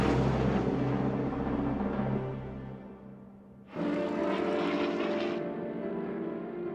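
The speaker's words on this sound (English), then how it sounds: "F-86 Sabre jet." An F-86 Sabre swept-wing jet fighter roars in flight, a continuous engine rumble that eases briefly, then surges back louder and brighter as the aircraft passes.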